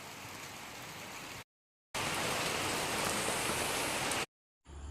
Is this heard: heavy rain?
yes